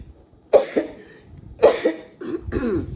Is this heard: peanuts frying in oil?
no